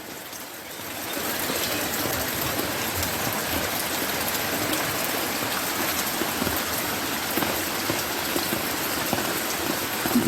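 Rain showers pour down in a steady, even hiss of drops striking surfaces, thickening after the first second and holding at a moderate level with no talking.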